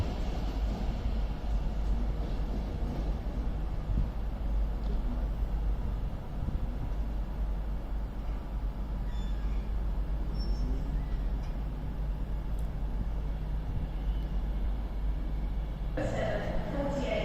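CrossCountry passenger train departing Crewe station on the West Coast Main Line, a continuous low rumble of rolling stock with a brief clank, and a sharper burst of noise near the end.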